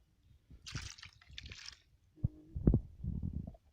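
Water poured into a bottle to fill it, a close, gurgling stream in uneven bursts with splashy glugs, fairly quiet overall.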